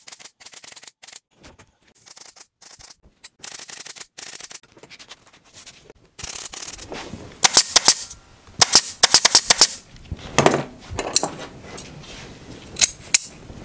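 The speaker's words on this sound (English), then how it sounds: "Sometimes I staple it, then fold it back and staple it again." A staple gun fires into hessian over a high back chair during reupholstery, in sharp, close snapping shots. Softer, sparse clicks come first, then denser, louder bursts of repeated stapling.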